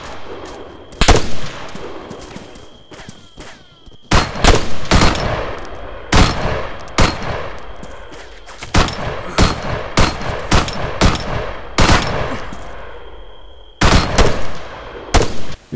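Machine gun fire in the military game Arma 3, loud bursts and single sharp shots cracking repeatedly over roughly sixteen seconds, closely spaced with brief gaps and a faint background tone.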